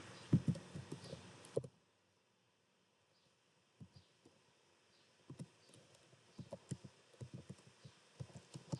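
Typing on a computer keyboard while writing a Python program in Jupyter Notebook, quiet irregular key taps in short clusters after a louder start, with a near-silent gap between.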